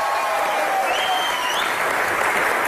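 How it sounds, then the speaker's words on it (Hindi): A TV comedy show's studio audience applauds for Sonam and Fawad, a loud, sustained roar of clapping with faint whistles and voices riding above it. "एक बार जोरदार तालियां सोनम और फवाद के लिए"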